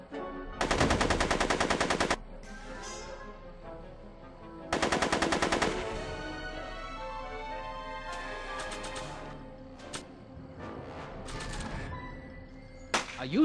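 Bursts of rapid automatic gunfire from the Back to the Future Part 2 video game, two long sustained volleys followed by scattered shorter shots and game effects, loud and up close with no talking.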